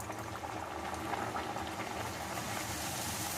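Aloo poori dough fries in hot oil, making a quiet, steady bubbling hiss that stays even and continuous with no talking over it.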